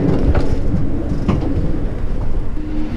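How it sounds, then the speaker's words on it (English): An Amtrak train riding on the rails produces a loud, steady rumble and roar, heard from close by, with faint rhythmic clatter underneath and no voices. "Traveling by train."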